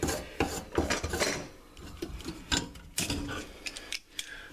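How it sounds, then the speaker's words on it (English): Someone unscrews a metal sink drain ring held with vice grips, making a close series of scraping, rasping metal grinds and ratchet-like clicks in irregular bursts. "the vice grips is enough just to hold that while I unscrew this"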